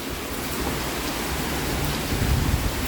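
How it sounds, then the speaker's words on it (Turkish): Heavy rain pours down onto a balcony in Istanbul in a dense, steady hiss, splattering hard on a nearby surface with a low rumble underneath. "Şu yağan yağmuru görebiliyor musunuz balkonun içerisinde?"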